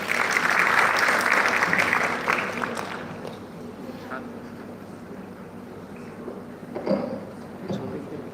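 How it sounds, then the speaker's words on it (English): Seminar audience applause at an academic conference breaks out loudly, then fades after about three seconds into a quiet room with scattered claps, shuffles and a few faint voices. "we are allowing her to leave with a clap"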